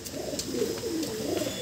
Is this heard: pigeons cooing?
yes